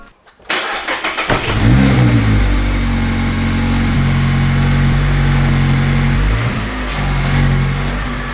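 A Mazda Miata ND with a rally-style lift starts up and pulls away: a brief silence, a quick crank and catch, then a steady, loud mid-pitched engine drone that rises and holds as the car drives off.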